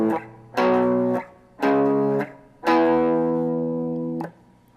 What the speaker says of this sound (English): You can play a power chord for each scale degree.